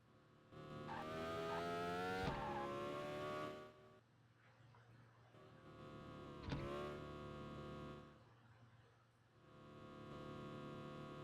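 A video game car engine accelerates under the throttle, heard as droning, buzzy harmonic tones that climb and swell in bursts, with two sharp surges and dips between them.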